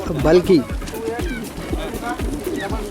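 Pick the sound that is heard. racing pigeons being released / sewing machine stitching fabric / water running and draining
racing pigeons being released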